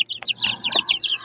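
A mother hen with eleven young chicks, giving soft, close clucks mixed with rapid high peeping chirps in a short, busy burst.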